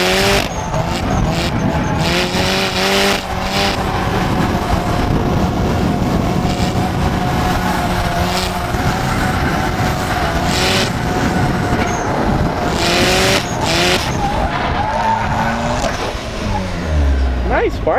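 A Mazda Miata engine revs and roars steadily nearby while doing donuts in a parking lot, pitch rising and falling with bursts of acceleration, with tire noise and a voice underneath.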